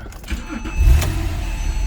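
A car engine cranks and catches, a brief starter whir followed by a low rumbling idle that settles in close by.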